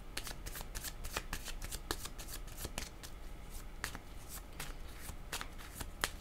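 Tarot cards being shuffled by hand, a continuous close riffling and flicking with quick crisp slaps repeating steadily throughout.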